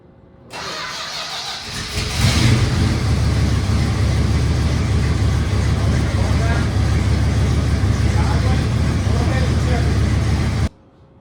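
A 1973 Dodge Charger engine cranks and catches near 2 seconds, then runs steadily at a loud, rough idle that lasts for the rest of the clip.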